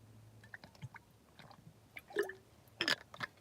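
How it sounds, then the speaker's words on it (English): A person sips and swallows water in a quiet room, producing a few soft, close wet gulps and small mouth sounds spread over a few seconds, with no talking. "I'm just gonna have some water before we do it."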